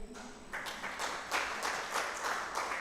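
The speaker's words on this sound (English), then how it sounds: "A hand clap for Millie." Audience at a recognition-of-prior-learning conference panel discussion applauds a panelist, a steady wash of many hands clapping at moderate distance, swelling and holding for about three seconds.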